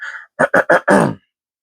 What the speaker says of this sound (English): you guys are gonna have to bear with me here on me clearing my throat